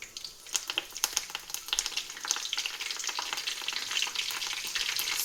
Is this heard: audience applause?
no